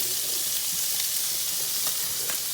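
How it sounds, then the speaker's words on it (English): Pancetta toasts in a pan with a loud, steady, close sizzle and a few faint scrapes or pops scattered through it, with no voices. "we are going to toast off some pancetta"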